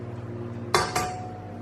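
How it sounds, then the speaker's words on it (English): Two eggs cracked on the rim of a stand mixer bowl fitted with a whisk attachment: two sharp knocks about a quarter second apart, close and distinct against a low kitchen hum. "I'm going to crack 2 eggs into my mixer using the whisk attachment"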